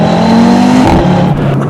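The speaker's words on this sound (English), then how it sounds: "making the 5-cylinder engine kind of squeal a bit" A stock Audi RS3's five-cylinder engine revs hard under throttle, loud and close, its rising rasp breaking at the top into a brief squealing note before settling back.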